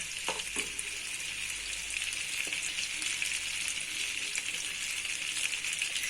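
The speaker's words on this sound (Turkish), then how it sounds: "Bu şekilde tereyağımız tamamen kavrulunca" Butter sizzles and browns in a pot for a Turkish chicken soup, a steady, close frying hiss with soft crackles and a few faint stirring clinks.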